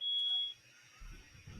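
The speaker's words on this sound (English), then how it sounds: "fire alarm going on?" A smoke alarm gives a loud, steady high-pitched electronic beep that sounds for about half a second. A second brief chirp comes right at the end, with low background rumble in between.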